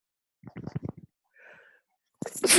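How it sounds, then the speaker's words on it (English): Soft, broken breathy vocal sounds lead into a brief pause, then a sudden loud sneeze bursts out close by at the end. "Stop sneezing during these things."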